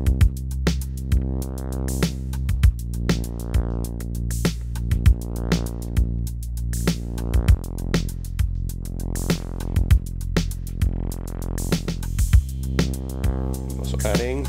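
Roland TR-8S drum machine pattern with steady kick, hi-hat, cymbal and a double-hit snare fill, over sustained low synth tones that swell and fade in repeating waves; even, mechanical rhythm at moderate level.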